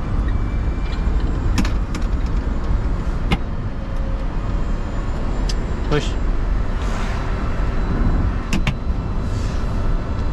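Inside a small electric Citroën Ami as it drives, a constant loud rumble of road and wind noise fills the cabin, with a few sharp clicks and knocks from the car. People talk over the din.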